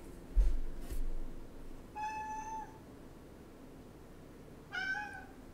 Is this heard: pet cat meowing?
yes